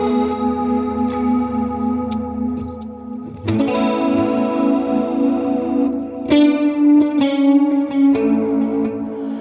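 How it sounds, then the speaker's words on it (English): An electric guitar run through a 70s chorus effect on a Line 6 POD Go rings out in sustained, wobbling chords with a shimmering, doubled tone, each new strum clear and loud with no talking. "Let's try a chorus, because why not, since we already have pseudo reverb from the delay anyway. Let's go with a 70s chorus."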